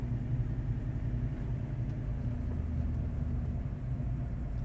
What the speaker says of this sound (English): Gonna put it in neutral, show you the idle.